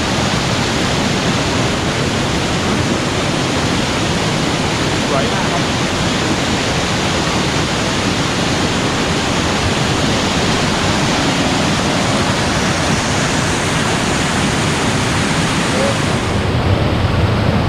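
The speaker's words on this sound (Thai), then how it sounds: "น้ำตกแรงมากคือแบบนี้ครับ" A powerful waterfall, Krok I Dok in Khao Yai National Park, Thailand, roars loudly and continuously, a dense rushing wall of water noise; a voice speaks briefly beneath it.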